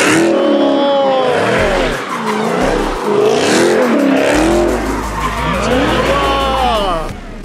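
Car tires squeal and wail continuously while the car drifts and burns rubber, the pitch sweeping up and down with each slide over a loud engine roar, close and sustained.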